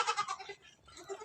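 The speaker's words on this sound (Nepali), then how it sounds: "दुईटा बाख्रा उता छ" A goat gives a loud, quavering bleat that fades out, followed by a softer second call from nearby with no voices.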